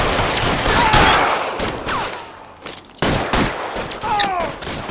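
Heavy gunfire fills a shootout in the video game LA Noire, with bursts of rapid shots and loud cracks layered over one another, plus brief whizzing ricochets, continuing steadily through the moment.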